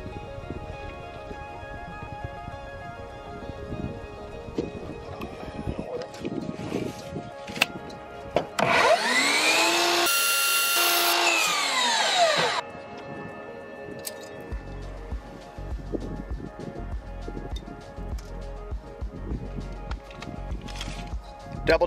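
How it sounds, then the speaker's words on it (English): A compound miter saw fitted with a metal blade cuts modern trim for a shower niche, a loud whining burst of about four seconds rising over quieter workshop handling noise before and after. "Now we're using a compound miter saw to cut the trim."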